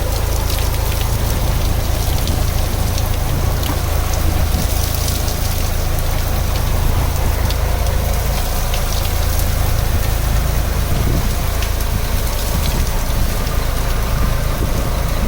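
Steady rain falls during a fishing trip in drizzly monsoon weather, a continuous dense hiss of drops close by with no voices.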